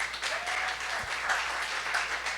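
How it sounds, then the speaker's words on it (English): A panel audience at a tech summit applauds, dense steady clapping held at an even level for a couple of seconds. "Round of applause for this panel."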